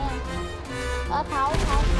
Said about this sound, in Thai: เฮ้ยพีรักมันมันยิงแล้ว